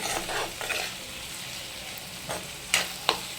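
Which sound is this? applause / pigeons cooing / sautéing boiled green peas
sautéing boiled green peas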